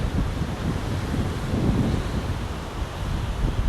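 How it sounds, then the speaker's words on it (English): Strong wind buffeting the microphone in a continuous low roar with gusty surges, nothing else clearly audible. "It's quite windy, so I really hope you can hear me okay."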